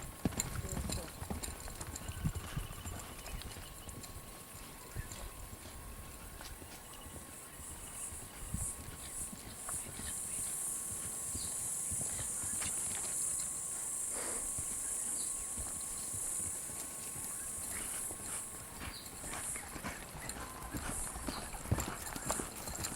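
A ridden gelding's hooves clip-clop steadily at a walk across open flat ground, with crickets and insects buzzing behind and a rider talking at intervals.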